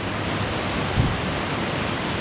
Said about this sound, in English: oh, there's a little waterfall there